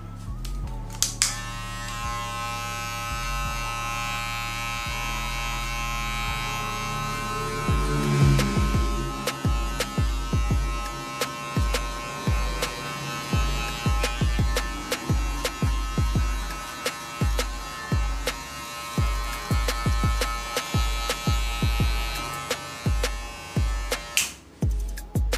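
Electric hair clippers fitted with a 1.5 guard buzz steadily while fading hair into a high fade taken down to zero, a close continuous motor hum that later breaks into rapid uneven clicking as the blade works through the hair.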